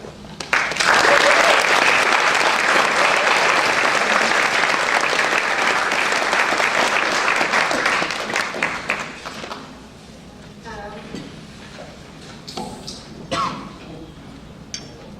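An audience bursts into sustained, loud applause to welcome a speaker named Rebeccah. The clapping runs about eight seconds before tapering into scattered claps and light clinks.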